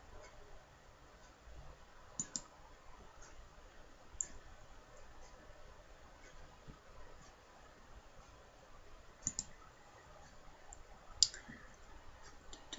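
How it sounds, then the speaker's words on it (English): Computer mouse clicks while checking a live stream setup, sparse sharp clicks spaced irregularly over quiet room tone, faint and close. "I'm just going to do some clicking really quick to make sure everything is running correctly"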